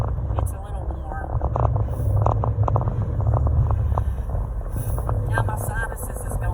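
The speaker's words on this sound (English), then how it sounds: "Sorry if you hear the wind." Wind buffets a microphone inside or beside a moving car on a warm day, a steady low roar and rumble that swells and fades while someone speaks over it now and then.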